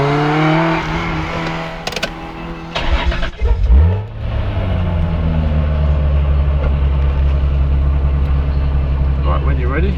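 A Toyota Supra MK4 engine starts with a cranking stutter and settles into a steady, deep idle hum, close by, with people talking briefly over it.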